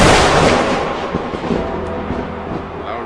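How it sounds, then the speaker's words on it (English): Loud fireworks at a wrestling event boom and rumble in a dense, sustained roar that starts strongest and slowly tapers, with no voices over it. "Loudest fireworks I had ever heard in my life."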